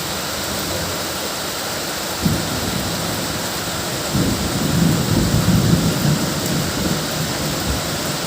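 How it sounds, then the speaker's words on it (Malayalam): Heavy rain pours steadily, with a deep rumble of thunder swelling in the middle and lingering before fading back into the downpour. "പുറത്ത് നല്ല തകർപ്പ് മഴയാണ്"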